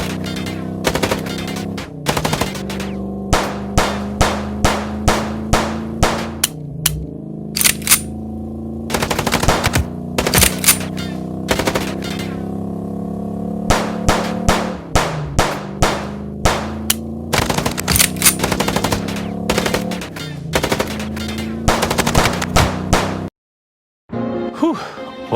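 Rapid machine-gun bursts and gunfire in the video game Chicken Police, loud repeated volleys with short pauses between them, broken by a brief silence near the end.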